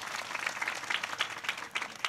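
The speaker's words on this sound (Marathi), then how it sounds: "नकुलजी महाराज कोळी यांच्यासाठी जोरदार टाळ्या झाल्या" An audience at a Marathi kirtan gathering during an akhand harinam saptah in Bhalavadi claps in a dense, steady patter of applause, moderately distant, with no voices on top.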